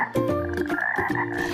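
A pet African bullfrog croaking loudly and close, two deep, drawn-out grunting croaks with a harsh harmonic buzz, separated by a short gap.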